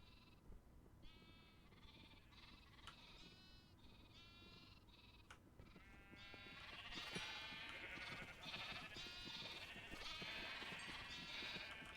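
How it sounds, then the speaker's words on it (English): Repeated sheep bleats from the Minecraft video game, several overlapping calls in quick succession that grow louder and denser toward the end over a steady game background. "Got a lot of sheep in there right now."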